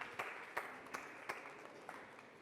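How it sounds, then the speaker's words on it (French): Faint audience applause on a high school quiz show in Chad, with several distinct sharp claps standing out above a low, thin patter of clapping. "Applaudissements pour elle, s'il vous plaît"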